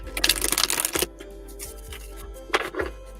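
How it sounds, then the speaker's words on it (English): Tarot cards being shuffled by hand, two bursts of papery riffling and snapping, the first longer and the second shorter after a pause, close and fairly loud with no talking. "Let's keep shuffling."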